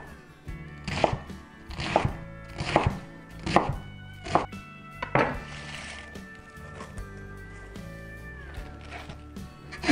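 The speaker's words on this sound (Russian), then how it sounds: "Нарезаем кубиками." A knife chops through cabbage on a cutting board, with about eight sharp, evenly spaced thuds up close followed by quieter scraping and handling sounds, and no speech.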